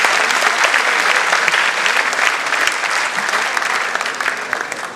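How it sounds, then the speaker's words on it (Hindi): An audience at a school annual program in Mumbai bursts into sustained, dense applause to welcome the top-scoring students, loud and close, slowly tapering off toward the end. "तो एक बार जोरदार तालियों से"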